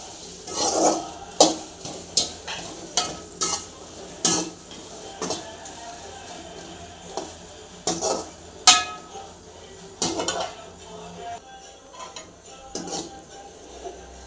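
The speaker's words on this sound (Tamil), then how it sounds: "தீ ஃபுல்லாக வச்சுக்கிட்டு நல்லா வதக்கலாம்." Okra being stir-fried over a full flame, a spatula repeatedly scraping and clinking against the pan in irregular knocks, with a low background hiss and no talk.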